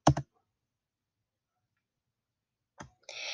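Mouse clicks while working in Tinkercad Codeblocks: a quick double click near the start, then after a long pause another click followed by a brief soft clatter, all crisp and close with no talking.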